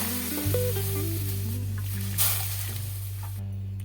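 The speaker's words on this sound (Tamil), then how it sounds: "இப்போ வந்து பால் சேர்க்க போகிறோம்" Milk poured into roasted semolina for kesari sets off a steady, close sizzle in the pan, running continuously beneath soft background music.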